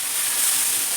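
Tomatoes fry in a pan with onions for an okra stir-fry, giving a steady, close, even sizzle that holds throughout with no talking.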